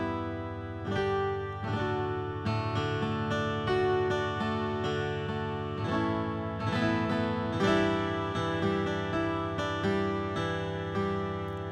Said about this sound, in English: We're going to play a little bit of live guitar.